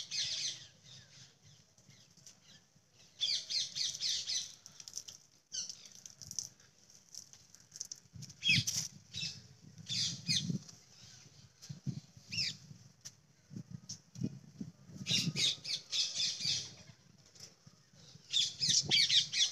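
A flock of parrots squawks repeatedly in bursts above a guava tree, harsh calls rising and falling with rustling and flutter among the branches, moderately distant and with no talk.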